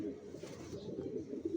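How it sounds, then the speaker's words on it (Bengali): Adult pigeons in a pigeon loft give soft, low cooing that is quiet and close by, with no talk over it. "বিয়ার্স দেখতে পাচ্ছেন এখানে সব অ্যাডাল কবুতর"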